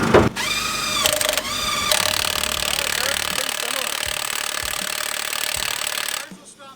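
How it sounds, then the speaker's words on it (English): Milwaukee power drill whirs at high speed, stalls and restarts in short bursts, then grinds under load with a steady motor whine, close and loud, while people talk nearby. "the Milwaukee will still keep torquing"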